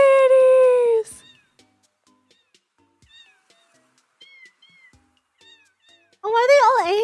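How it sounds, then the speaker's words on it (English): Cartoonish cats in the video game Neko Odyssey meow loudly, one long meow opening and a wavering one closing, with faint chirpy game sounds scattered in the quiet between. "There are a ton of cats here."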